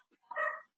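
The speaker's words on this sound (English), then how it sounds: "Oh, that's my dog." A single short dog bark, fairly close and clear, standing alone with no talking over it.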